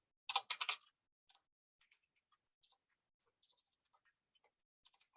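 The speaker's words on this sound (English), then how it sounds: "excuse my typing," Typing on a computer keyboard: a quick loud burst of clicks at the start, then scattered soft, faint keystrokes tapping irregularly through the rest, with no talking.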